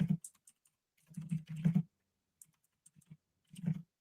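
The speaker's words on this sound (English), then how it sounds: "I could just be typing this. You can't see what I'm typing, okay?" Typing on a computer keyboard comes in short irregular bursts of close, crisp key clicks separated by brief pauses, loud against an otherwise quiet room.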